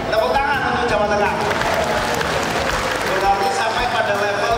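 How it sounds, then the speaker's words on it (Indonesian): Audience applause for Jawa Tengah at a political gathering, a steady, dense roar of clapping from a large crowd that holds evenly for several seconds with mixed voices underneath. "Tepuk tangan untuk Jawa Tengah."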